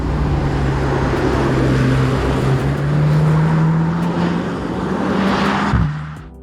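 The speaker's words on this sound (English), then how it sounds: "the kind of metallic offbeat exhaust note that makes you start your car in the garage just to hear" A Mercedes-AMG C63 with the 6.2-litre M156 V8 holds a loud, deep, metallic offbeat exhaust drone close by for several seconds, rising slightly, before cutting off abruptly.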